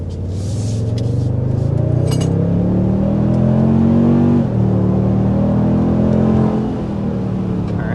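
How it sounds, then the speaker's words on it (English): A 2026 Toyota Tundra Limited with a twin-turbo V6 accelerates hard from inside the cabin, its engine tone climbing steadily through the revs, dropping at a gear change, then rising again before easing off, with faint cabin clinks. "first we need to start with a hard acceleration to show you what the performance is like"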